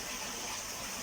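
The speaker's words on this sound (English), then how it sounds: "Top up some RO water for my boy's turtle tank" Reverse-osmosis water pours steadily into a turtle tank, a continuous close gushing splash with no pauses and no voices.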